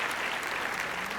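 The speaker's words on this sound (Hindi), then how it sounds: "जोरदार तालियां।" Loud applause breaks out at a Bhojpuri film awards show, a brief burst of dense, continuous clapping from a large audience, close and even.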